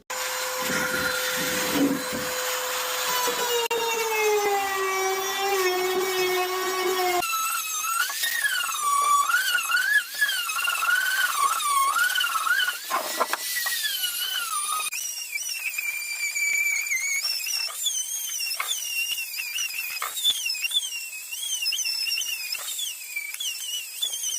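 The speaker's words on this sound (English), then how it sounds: "Let's go ahead and begin sanding this thing down" A power sander whines steadily and continuously on fiberglass, a cracked Nissan 370Z wing, its pitch wavering and shifting as it works the surface, with no voices.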